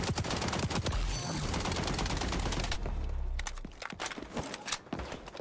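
Automatic gunfire in the video game XDefiant: a loud, sustained burst of rapid shots for about three seconds, then sparser scattered single shots and cracks.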